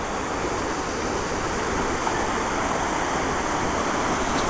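Fast-flowing water rushes over the falls at Tirparappu in a steady, dense roar that stays loud and close throughout, with no speech.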